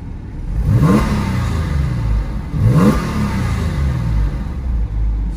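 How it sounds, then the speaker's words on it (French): A Porsche 996 Carrera 4S naturally aspirated engine revs hard twice, each rise in pitch swelling to a loud roar, then settles into a steady rumbling idle between and after the bursts. "du bruit et des vibrations du moteur atmosphérique"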